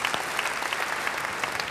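A church congregation gives a burst of applause, many hands clapping in a dense, continuous patter at moderate volume from start to finish.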